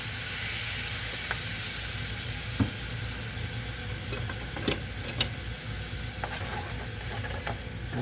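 Cream poured into a hot pan of beef, with the heat turned off, sends up a constant loud sizzle and hiss, dotted with small ticks and clicks.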